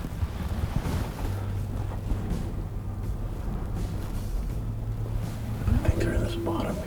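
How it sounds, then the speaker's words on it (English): Strong gusting wind of roughly 40 miles an hour roars outdoors near cottonwoods, buffeting the microphone with a steady loud rush, while a faint low hum runs underneath. "we've probably got a 40-mile-an-hour wind right now"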